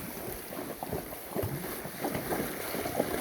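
A horse wades across water, making a string of uneven splashes and sloshing bursts close to the microphone over wind noise.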